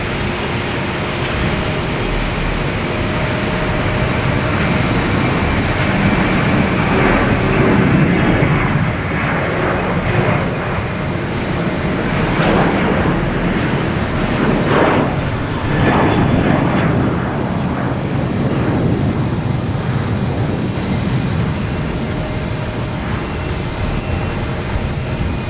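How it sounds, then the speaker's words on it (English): A Delta Boeing 737-800 takes off at Boston Logan with a loud, sustained jet roar that swells and holds throughout, broad and rumbling, with faint airport noise around it. "next taking off is Delta heading to Fort Lauderdale, 737-800"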